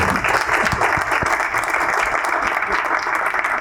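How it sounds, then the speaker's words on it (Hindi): Studio audience applause during a Ramadan quiz show, a steady wash of dense clapping that stays loud and even throughout. "तालियां हो जाए।"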